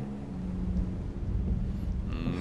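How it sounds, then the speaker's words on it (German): A low, rumbling thunderstorm in the video game Indiana Jones and the Emperor's Tomb, continuous deep roll with rain-like hiss and no sharp crack, fairly loud and steady. "Es gewittert auch noch."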